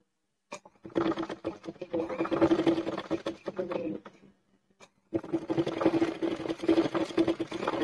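Sewing machine stitching a garment neckline, running in two steady rapid bursts separated by a brief pause, close and fairly loud.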